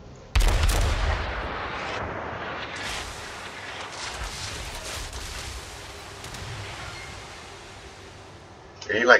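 A video game's naval guns fire armor-piercing shells: one loud, sharp blast opens, then a long rolling rumble fades under steady noise, with another sharp report at the very end; voices talk faintly.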